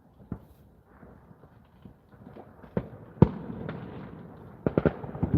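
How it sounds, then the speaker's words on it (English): Fireworks crackle on New Year's Eve, scattered sharp pops and bangs at irregular intervals over a low murmur of background noise, some moderately loud and others faint. "I'm hoping that that's just some kind of crackling firework in the distance, but it kind of sounds close."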